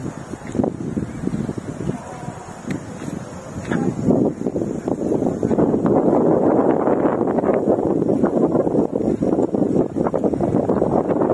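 Wind gusts buffet the microphone at a children's farm by a large baseball ground, a steady rough roar that builds and stays loud throughout.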